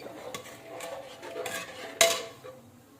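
A spoon stirring food in a cooking pot, with scattered metallic scrapes and clinks and one sharper clank near the end, quiet and close.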